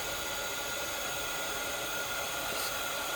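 A heat tool blows a constant, loud hiss of hot air onto an embossed die cut, an unbroken rushing whoosh held steady for the whole stretch with no voice over it.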